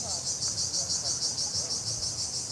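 Cicadas on a beach in Turkey, a steady, high-pitched drone pulsing continuously, loud and unbroken, with faint background noise underneath.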